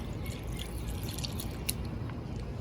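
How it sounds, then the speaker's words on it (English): Quiet trickling and dripping as a little water is poured onto a freshly transplanted pepper plant in soil mix, faint irregular drips over a low steady background, with no voices. "is add a little water."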